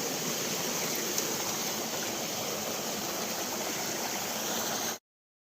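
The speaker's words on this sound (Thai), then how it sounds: "มีน้ำตกเล็กอีกน้ำตกหนึ่งนะครับ" A small waterfall and stream deep in a forest, a dense, steady rushing roar of water that continues evenly for about five seconds and then cuts off abruptly, with no voices.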